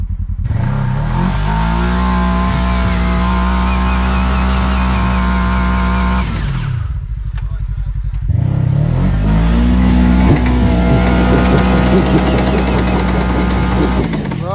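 A Kawasaki KRX 1000 side-by-side revs hard in snow, its engine loud and close with a rough, throbbing note that drops briefly to a lower idle before surging again, no talking over it.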